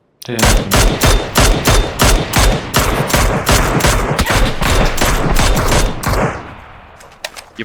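Loud rapid bursts of automatic gunfire in the video game PUBG ring out in quick succession for several seconds, then taper into a few scattered distant shots.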